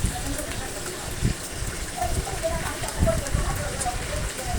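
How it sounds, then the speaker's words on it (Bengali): Chicken frying in hot oil in a wok makes a steady crackling sizzle, soft and continuous like rain with scattered pops, moderately quiet throughout. "চিকেনগুলো যখন তেলে দিলাম তখনই এত সুন্দর একটা ঘ্রাণ বের হচ্ছিল।"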